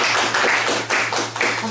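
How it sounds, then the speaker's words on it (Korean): Scattered audience clapping at a church young adults gathering, a brief burst of hand claps close by with a low steady hum underneath. "박수 한번"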